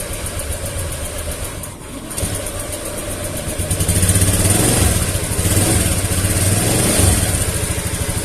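A Honda Beat FI scooter engine with a new injector runs just after starting, idling close and loud with a steady mechanical drone that swells a little midway, with no voices.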